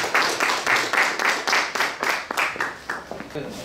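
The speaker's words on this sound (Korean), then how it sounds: "박수로 환영해 주시기 바랍니다" An audience at a small business forum claps to welcome a speaker to the stage, a brief burst of distinct, rhythmic hand claps that fades toward the end.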